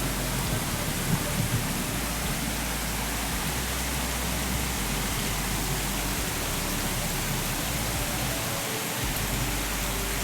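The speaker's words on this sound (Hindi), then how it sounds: "इतनी तेज़ बारिश हुई ना हमारे यहाँ" Heavy rain pours steadily and loudly, a dense unbroken hiss with low thunder rumbling underneath throughout, and no voices.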